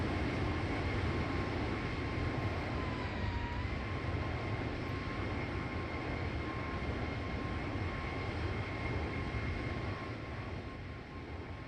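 An Airbus A321 with LEAP engines roars past in an X-Plane flight simulator flyby. The engine noise is loud, dense and continuous for the whole stretch, with a thin steady whine above it.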